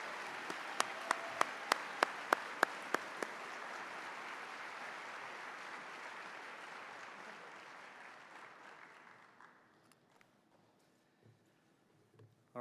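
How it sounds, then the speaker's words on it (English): Commencement audience applauding graduates with sustained, even clapping, a few sharp nearby claps standing out early before the crowd gradually fades to near silence. "And one last round of applause for our MS MedTech graduates."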